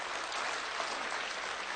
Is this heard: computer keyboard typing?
no